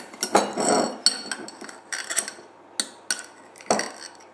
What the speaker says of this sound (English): next up, we go with a bit of jam. I'm just going to use the knife again